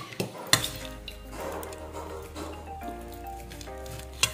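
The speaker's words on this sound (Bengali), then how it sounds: "এইফালে আলু ভাজি আছে, এইটো আলু ভাজি অলপ মই ল'ব লাগিব" A metal spoon scrapes and clinks against a pan while serving fried potatoes, with sharp knocks at the start and end and softer scraping between.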